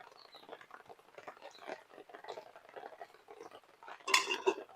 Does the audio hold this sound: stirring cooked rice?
yes